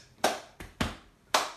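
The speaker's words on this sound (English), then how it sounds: "clap, chest, chest, clap, chest, chest" Body percussion of hand claps and chest slaps, four sharp close hits in a steady pattern, the claps bright and snappy, the chest slaps duller and thumpier.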